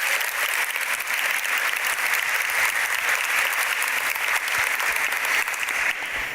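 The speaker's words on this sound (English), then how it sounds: "One more round of applause" A church congregation claps in steady, continuous applause, broad and even for several seconds, easing slightly at the close.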